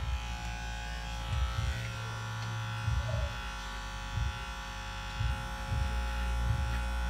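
An electric beard trimmer buzzes close up while fading a beard, its steady whine swelling in short repeated strokes as it passes over the hair, with no talk.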